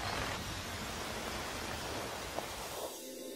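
Torrential rain at the end of the dry season in South America: a dense, steady hiss of heavy downpour that fills the soundscape, then cuts off abruptly near the end.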